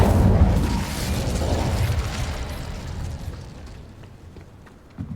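The Incendio fire spell erupts in Hogwarts Legacy, a loud roaring, whooshing burst of flame that fades over several seconds, followed by a small pop at the end.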